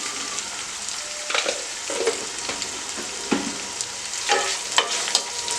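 Sliced onions with salt frying in a pan for chicken rice, a steady broadband sizzle with occasional louder stirring scrapes and pops, close and continuous.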